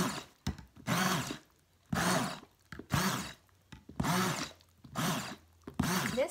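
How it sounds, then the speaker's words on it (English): An immersion blender pulses through chunky strawberry sauce meant for cheesecake, giving about six short, whirring bursts separated by brief pauses, each one close and fairly loud. "I'm just going to use my immersion blender, and I'm not going to make it completely smooth"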